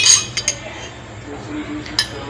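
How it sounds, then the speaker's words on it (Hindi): Spoon and dishes clink a few times while Multani-style rawaan dal is served: sharp metallic taps near the start, a pair just after, and one more near the end, with a low kitchen hum between. "ये मैं अब आपको डिश आउट करके दिखाती हूँ।"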